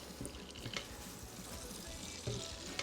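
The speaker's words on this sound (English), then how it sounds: "You just stir them up, make sure everything gets coated with that butter, and slowly but surely these marshmallows will melt" Marshmallows melt in butter in a pan over low heat, giving a faint, soft sizzle with a few light scrapes and taps from stirring.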